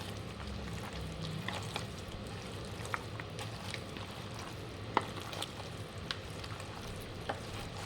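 Goat head curry being stirred in a pan, with soft, steady frying and a few scattered scraping clicks from the spoon throughout, fairly faint and close.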